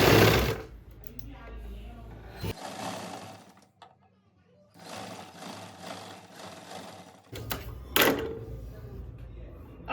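A sewing machine stitches a hook-and-eye strip onto a blouse in short bursts of whirring separated by pauses, with someone talking between runs.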